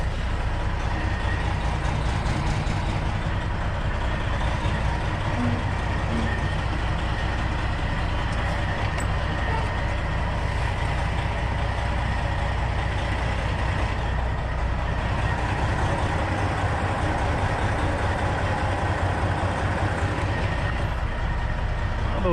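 A long-hood truck's diesel engine idles steadily during dock backing in Chicago, a continuous low rumble with a broad hum, close and unchanging throughout with no talk.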